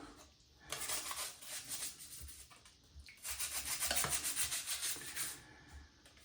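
Soft bristle brush washing the painted plastic body of a 1970 Dodge Challenger T/A model kit, over its decals, in two long close bursts of gentle, hissing scrubbing with a short pause between them.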